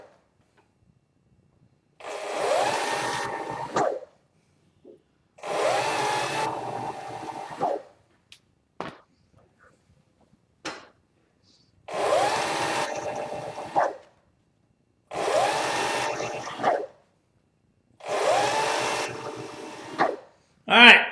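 A leather skiving machine thins leather for a drawstring bag, its motor whirring in five separate bursts of about two seconds each with short pauses between, close and fairly loud.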